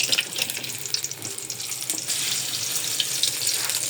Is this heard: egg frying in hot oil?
yes